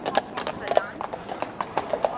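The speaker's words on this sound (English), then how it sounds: "There's some real German horses." Horses' hooves clip-clopping on a street in Dresden, Germany, a steady near rhythm of sharp clops, with talk in the background.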